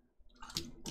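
Water squirted from a plastic syringe for a homemade toy water blaster, a faint hiss that builds into short splashy spurts near the end, quiet and close.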